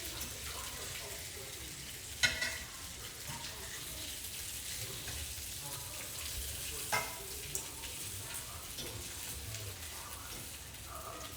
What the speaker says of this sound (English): And I'll flip the sausage one more time because I like for it to be well done.